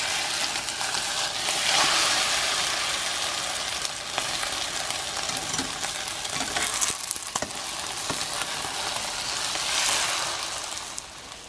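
Eggplant omelette with ground pork (tortang talong) frying in a pan while being flipped, a loud continuous sizzle and crackle throughout with swells as the omelette is turned, no talking.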